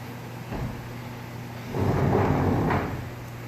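A machine's sliding enclosure door, jammed and off its rail, grinds and scrapes as it is forced along, with a short rub followed by a longer rough slide over a steady low hum.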